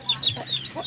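Small mother hen clucking: several quick, close clucks in a short rhythmic burst, with thin high peeping around them.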